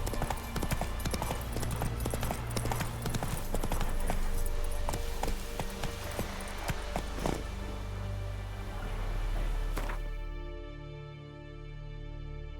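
Roach, Geralt's horse in The Witcher 3, gallops with a steady rapid clatter of hooves that stays close and fairly loud, then drops away near the end.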